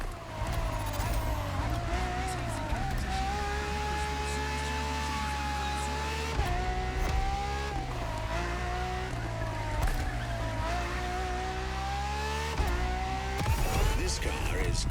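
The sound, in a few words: Ferrari FXXK supercar driving a lap in video game The Crew Motorfest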